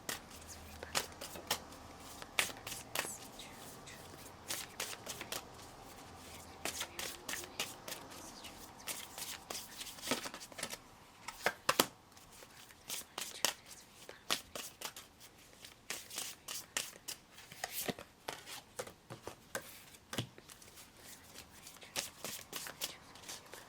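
Tarot cards shuffled by hand in a quiet room, a steady run of soft papery riffles and sharp slaps, close and clear, with no talking.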